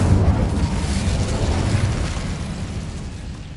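The Incendio fire spell in Hogwarts Legacy erupts as a loud, sustained roaring whoosh of flame that slowly fades.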